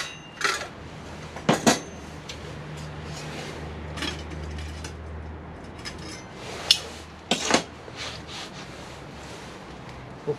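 Metal cookware from a Winnerwell Nomad Small wood-burning camping stove: a frying pan, saucepans and a folding spoon and fork are handled and set down, giving a few sharp clattering clanks and scrapes over quiet background.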